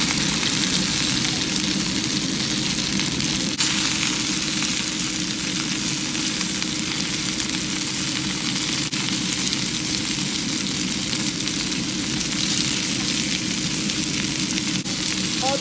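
Chicken dumplings pan-frying until crispy give a steady, loud sizzle and hiss of hot oil that runs unbroken throughout, close up, with no talk over it.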